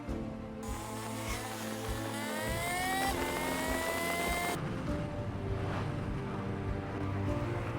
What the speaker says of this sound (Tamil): தன்னுடைய ஓட்டத்தை முடித்துக் கொள்கிறார் மோட்டார் வண்டியார்.